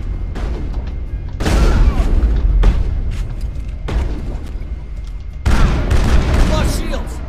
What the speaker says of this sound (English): Oh, they are shooting.